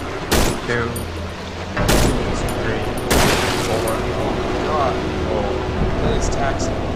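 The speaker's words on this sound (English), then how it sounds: "Should we do two shotgun shots and then pistol shots on this?" Gunshots in the horror video game Cry of Fear: heavy, sharp blasts spaced over several seconds, loud and near. They come over game ambience, with people talking throughout.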